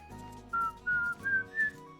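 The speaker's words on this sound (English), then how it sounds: "whistling probably sounds really bad on the microphone" A person whistles a short tune of four clear sustained notes rising slightly in pitch, close to the microphone, with a faint background game soundtrack beneath.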